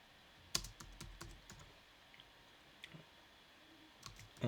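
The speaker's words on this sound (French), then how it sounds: "je mets des guillemets et je tape par exemple entrée" Someone types on a computer keyboard at close range: sparse individual key clicks, a few quick bursts and isolated taps separated by short pauses, quiet and alone.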